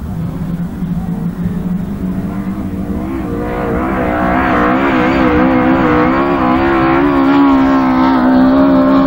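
Autograss race cars at St Neots roar around a dirt track during a finals race, several engines loud and overlapping with rising, wavering revs that swell and build steadily toward the end.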